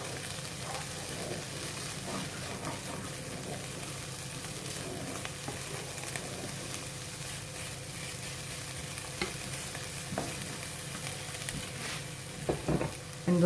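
Garlic and ginger frying in a pan for a sweet potato curry give a steady, low sizzle with occasional stirring clatter, continuous and fairly quiet throughout, with no talking.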